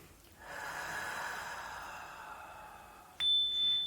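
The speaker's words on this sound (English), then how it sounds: "Take a deep breath for me." A slow, deep breath is drawn in and let out through the nose, close and breathy, over about three seconds, ending as a soft bell-like ding rings and lingers in a quiet room.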